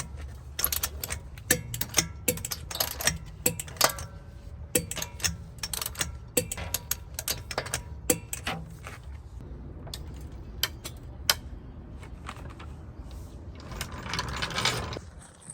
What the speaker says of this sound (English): We're going to torque these wheels to 76 foot-pounds.